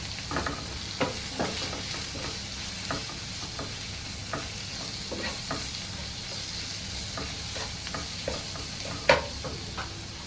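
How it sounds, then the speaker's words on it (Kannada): Patiala chicken masala with cumin and coriander powder is stirred in a hot pan, a spoon scraping in irregular strokes over a steady background sizzle, close and moderately loud with no talking. "ಈಗ ಚೆನ್ನಾಗಿ ಮಿಕ್ಸ್ ಮಾಡಬೇಕು."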